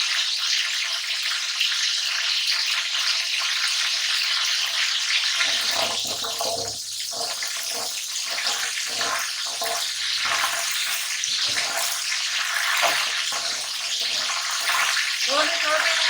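Cinnamon, bay leaf and garam masala dropped into hot oil for chana pulao, starting as a steady loud hiss and crackle, then a fuller bubbling sizzle with stirring scrapes close by. Nobody talks.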